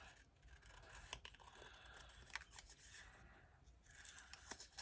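Scissors trim close along the edge of a clear PET sticker in a series of quiet, crisp snips over a soft background hiss.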